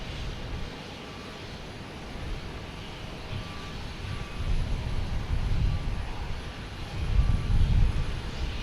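Spirit Airlines jet airplane passing near Boston Logan Airport, a broad low engine rumble that swells in waves and grows louder toward the end, heard from a distance with no voices.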